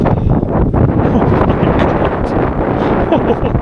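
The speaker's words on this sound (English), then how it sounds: "It's extremely windy today." Strong wind on the Camotes Islands, Philippines, roars and buffets the microphone continuously, a loud, rumbling rush with no break.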